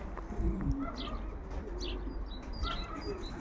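Racing pigeons return to a loft after a rain- and storm-hit 330 km race, with soft cooing, light chirps and brief wing flaps close by against steady outdoor background noise.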